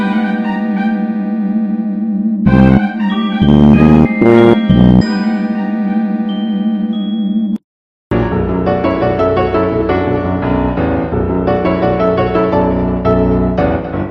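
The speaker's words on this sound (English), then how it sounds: "there are tinkly bells playing high above the droning synths, and those bells play a line that is reminiscent of a particular song" Deltarune's game track plays, with tinkly bell tones ringing high above steady droning synths, a dense passage, a sudden brief silence, then the music resumes.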